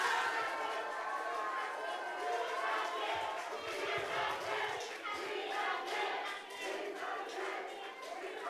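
Election rally crowd at a joint campaign meeting for a mayoral candidate nomination, cheering and applauding loudly and continuously, a dense wash of claps and shouts with no pause.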